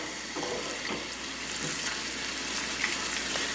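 Pizza topping of andouille sausage and shiitake mushrooms sizzles and crackles in a hot pan, a steady close frying hiss with small pops, no talking.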